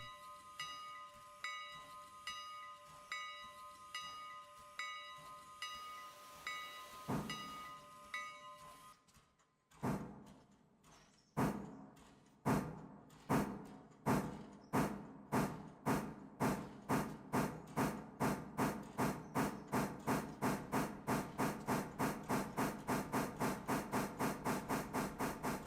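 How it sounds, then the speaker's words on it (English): A steam locomotive in the Railroader video game pulls away after releasing its brakes. Slow, evenly spaced exhaust chuffs give way to a loud hiss, and then the chuffs quicken steadily into a rapid, rhythmic beat. "Let's watch this steam leave. It takes just a little bit to get those brakes released."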